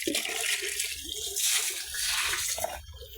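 Water pours steadily into a pigs' water container on a pig farm, a continuous splashing rush that stays fairly loud for about three seconds with no talking.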